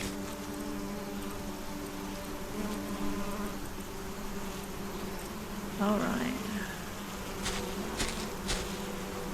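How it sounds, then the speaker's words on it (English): Angry bees in the SolarPunk video game give off a steady, droning buzz throughout, with someone speaking briefly over it and a few soft clicks near the end. "I'm really hoping that they're not angry bees and they don't sting me."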